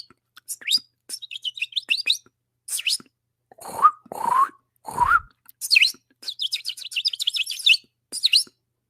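A man imitates birdsong with his voice, a close sequence of quick chirps, trills and whistled notes in bursts over several seconds, with a few lower whooping sounds in the middle.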